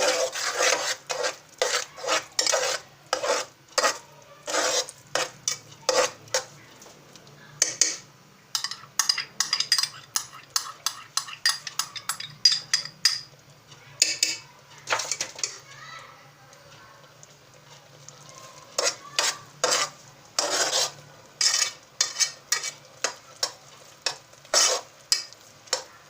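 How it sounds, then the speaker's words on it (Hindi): A spoon scrapes and stirs beaten egg into carrot halwa in a pan, giving repeated rasping strokes in uneven bursts over a faint sizzle, close and fairly clear throughout. "अब हम इसमें एक अदद फेंटा हुआ अंडा डालेंगे और अंडा डालते ही हम में चमचा हिलाएंगे"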